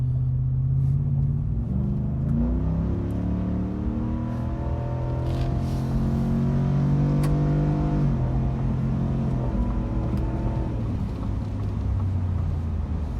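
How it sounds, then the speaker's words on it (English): A 2022 Ford F-150 with the 5.0 V8 and Flowmaster Super HP2 exhaust accelerates hard uphill, heard from the cabin as a deep rumbling roar that climbs steadily in pitch through the gears, loud and continuous with no talking. "that is basically what the hard acceleration is gonna look like"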